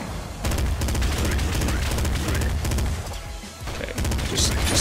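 Rapid machine-gun fire rattles in the video game Nuclear Throne, with dense bursts repeating across the whole stretch over busy game sound and music.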